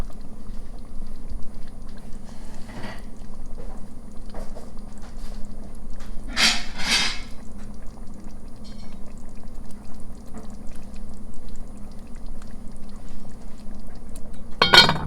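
Homemade spaghetti sauce simmers in a pot, a low steady bubbling with a few soft plops and brief sharper clinks, close and without talking.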